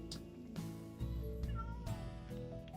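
Minecraft cats meowing in a video game, several short tonal mews in quick succession over a layered musical game background, moderately loud and close.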